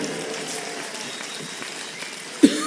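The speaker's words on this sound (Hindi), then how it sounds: "एक बार जोरदार तालियां बजाकर बताइए कि तालियां क्या होती है" Steady applause from an audience at a Hindi poetry recital, a dense wash of clapping continuing throughout, with one sharp louder thump near the end.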